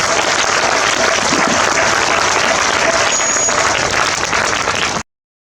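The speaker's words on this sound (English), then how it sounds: "Give them a loud round of applause." Loud, sustained applause from a large crowd at a school Independence Day celebration, dense and steady for several seconds before cutting off abruptly.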